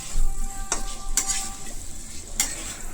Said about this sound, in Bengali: এবার কষে নেব ভালো করে।